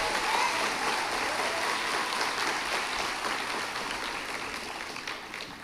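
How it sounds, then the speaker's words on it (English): A graduation audience at the 2026 Chattahoochee County High School ceremony breaks into dense, sustained applause from many hands, filling the space loudly before easing off gradually. "That deserves a round of applause."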